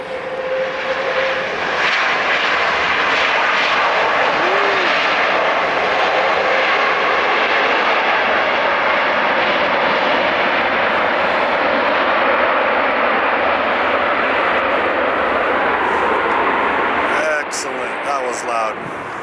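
Heavy jet airliner landing or taking off at LAX, a loud, sustained broadband engine roar that holds for most of the stretch and then eases, heard outdoors from nearby.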